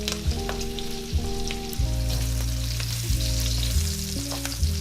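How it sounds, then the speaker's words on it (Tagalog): Garlic frying in a pan for a Filipino dish, a steady close sizzle with occasional stirring clicks, under a low humming tone from a nearby appliance. "Nilagay ko na, guys, yung bawang."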